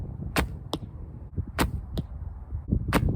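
Arrows thudding into an archery target during practice, several sharp impacts spaced about a second apart, close and crisp with no talk over them.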